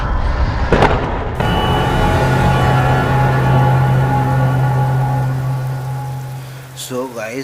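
Heavy rain pours at Trimbakeshwar in a dense, constant hiss with a low hum underneath, loud throughout, and a voice briefly breaks in near the end.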